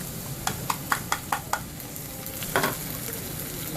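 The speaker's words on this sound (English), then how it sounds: "we're gonna go ahead and add our black beans" Black beans being stirred into peppers and onions sizzling in a pan: a quick run of about six spoon clacks over a constant frying hiss, then a louder scrape and rustle as the mix is stirred.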